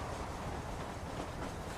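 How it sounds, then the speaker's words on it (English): Train running in the video game Red Dead Redemption, a steady broadband rumble with faint clattering throughout, continuous and moderately loud with no talking. "Now, you gotta get this train up to 88 miles an hour."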